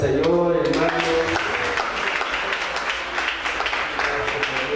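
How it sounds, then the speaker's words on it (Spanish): A church congregation in Aguacatán, Huehuetenango claps hands together at the opening of a thanksgiving service, a brisk, fairly loud patter of many hands that follows a speaking voice and continues under murmuring talk. "Ofrenda de palmas al Señor, hermanos."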